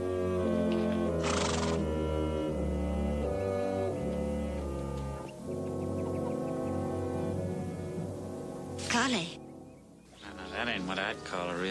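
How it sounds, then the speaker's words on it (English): Tired horses on a Western trail give loud, drawn-out whinnies, one early and another near the end, over ongoing hoof and tack noise. "Sam, these horses look spent"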